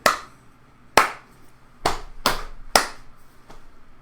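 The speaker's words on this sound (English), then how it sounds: "And they should be able to do clap, clap, pat, pat, clap" A music teacher performs a body percussion rhythm alone, a pattern of six sharp, close slaps and claps spaced unevenly in a quiet room, each striking hit fading quickly.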